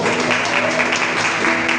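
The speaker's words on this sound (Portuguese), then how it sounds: "Você pode dar glória a Deus aí, aplaudir ao Senhor." A church congregation claps steadily, a brief, even wash of applause from many hands at moderate loudness.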